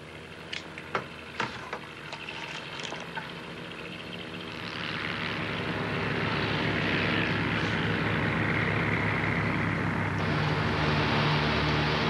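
Cartoon airplane engine droning and steadily building to a loud, sustained roar as it approaches to land on a runway, preceded by a few faint clicks.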